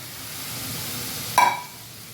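Milk is poured into shukto vegetables cooking in a hot pan: a steady soft sizzle runs throughout, then a brief sharper hiss flares up near the end and fades.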